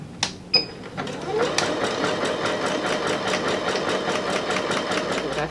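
Sewing machine running a zigzag stitch around the edge of a fabric cushion, a steady, fast, close mechanical chatter of needle strokes following a few clicks at the start.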